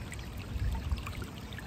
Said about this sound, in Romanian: pe aici curge apă, irigă practic tot câmpul ăsta